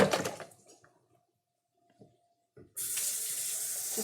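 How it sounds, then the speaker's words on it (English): Beans rinsed under a running kitchen tap, a steady stream of water splashing into the sink for the last second or so after a quiet pause, preceded by a brief burst of water at the start. "Just give them a quick rinse here."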